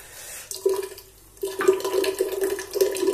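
Water runs from a tap in short bursts to add a few drops to a bowl for whipping shaving cream in a barbershop, a faint splash, then louder steady running with a gurgling tone.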